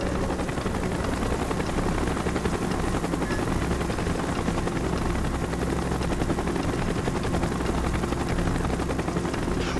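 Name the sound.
helicopter in video game Call of Duty Black Ops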